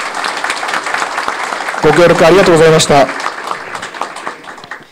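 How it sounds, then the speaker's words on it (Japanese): Applause from the audience at a town mayoral election public debate in Okutama, steady clapping throughout with a person speaking briefly over it in the middle. "盛大な拍手をお願いいたします。"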